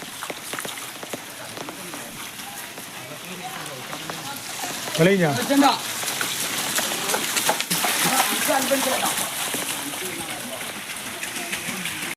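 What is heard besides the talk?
rain and flowing water at NH 66 Randathani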